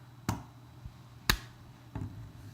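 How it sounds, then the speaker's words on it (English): Palm of a hand slapping against a face, one crisp sharp smack standing out among a couple of softer slap-like hits in an otherwise quiet room. "that sound is my palm of my hand hitting my face."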